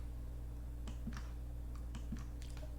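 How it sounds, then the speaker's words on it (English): Mouse or trackpad clicks on a computer running Linux Mint Cinnamon: a handful of sharp, light, close clicks spaced irregularly over a steady low hum, with no talking. "You can hear me clicking."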